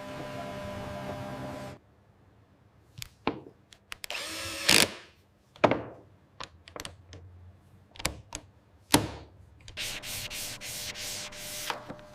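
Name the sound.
hand sanding buggy body with 120 and 220 grit sandpaper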